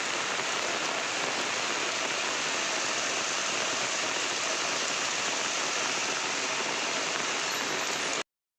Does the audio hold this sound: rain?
yes